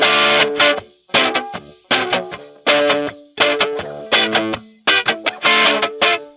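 A soloed electric guitar in Cubase AI 7, with the reverb removed, plays repeated strummed chords through a noise gate. Each loud burst cuts off abruptly into near silence, about eight phrases in an even rhythm.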